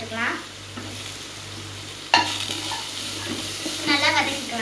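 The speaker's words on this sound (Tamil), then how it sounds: "மீனெல்லாம் வதக்கிக்கலாம்." Fish being sautéed in a pan for Kerala fish curry, a continuous sizzle with spoon scrapes and a sharp metal clank midway, close by over a faint hum.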